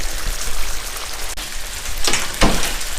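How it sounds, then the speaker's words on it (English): Ribeye cap steaks sauteing in butter, garlic and marinade in a cast iron pan give off a close, crackling spatter, with a sharp click and two louder sizzling bursts near the end. "sauteing the heck out of these with the butter and the garlic, along with the marinade"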